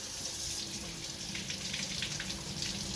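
Cold water runs steadily from a kitchen tap to thaw frozen shrimp, giving an even, continuous splashing rush that stays at a constant level throughout.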